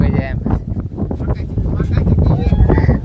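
Strong mountain wind on the stone steps of Girnar buffets the microphone with gusty low rumbles, heard close and loud while people keep talking over it.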